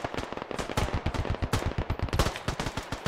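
Rapid bursts of automatic gunfire from a first-person shooter set in Modern Warfare style combat, loud dense shots rattling in quick succession with short gaps, no talk over them.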